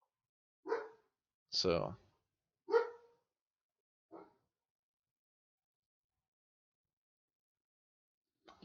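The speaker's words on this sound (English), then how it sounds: "What are you barking at?" A dog barks indoors in four sharp, separate barks spaced about a second apart, fairly close, then silence, with a single brief spoken word at the start.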